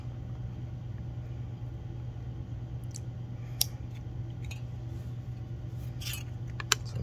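Metal snips cut a piece of metal for a letter keychain, giving a few sparse, sharp snipping crunches over a steady low workshop hum.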